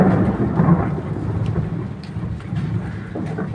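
Heavy rain, with hail falling, pours steadily alongside rolling thunder, a dense and loud roar that continues throughout with no voices.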